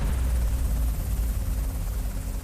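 A Seahawk helicopter drones with a deep, steady low rumble and beating rotor throb, fairly loud and continuous.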